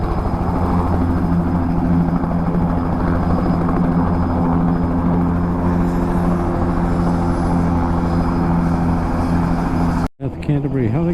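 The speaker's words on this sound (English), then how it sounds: "And Jet Ranger here coming in, putting the chemicals round." A Jet Ranger helicopter flies in low over rolling hill country on a high-country station while spraying chemicals, its rotor and engine a loud, steady, close drone that cuts off abruptly near the end.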